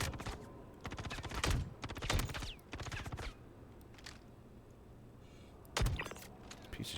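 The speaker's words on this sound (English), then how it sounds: "Who's shooting me?" Bursts of gunfire in the Star Citizen space game, several sharp volleys of rapid shots in quick succession, then a pause and one more burst, loud and close with no talking.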